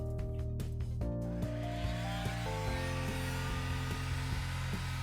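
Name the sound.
heat gun warming an iPhone 7 to soften adhesive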